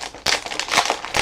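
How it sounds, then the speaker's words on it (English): Plastic packaging on a Graphic 45 Curiouser and Curiouser album kit crinkles loudly and close in repeated bursts as it is handled and opened. "Sorry for the crinkly noise."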